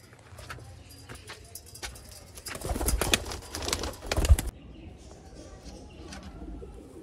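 Sialkoti Ali wale pigeons coo and rustle close by, with a louder burst of flapping and handling noise in the middle before settling to quieter background sounds.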